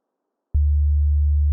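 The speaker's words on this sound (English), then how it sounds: "I'm going to be using the Adventure Kid Waveform's Perfect Waves sine wave" A pure sine wave from the Adventure Kid Perfect Waves sample set, looped, starts abruptly after a short silence with a click and holds as a loud, steady low tone.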